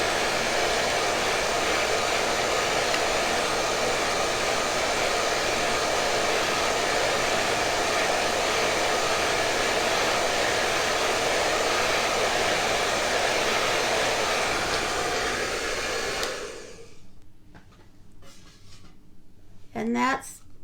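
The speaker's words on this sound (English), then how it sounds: "you're going to blow dry it for just a few seconds" A hair dryer blows on an iron-on transfer for a farmhouse banner in a steady, loud, unbroken whoosh for about sixteen seconds, then cuts off, leaving quiet handling noises.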